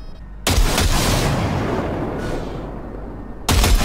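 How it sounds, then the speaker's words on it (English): A single loud gunshot rings out in Cyberpunk 2077 during a weapon calibration test, followed by a long fading echo, then a second sharp shot begins at the very end. "Single shot."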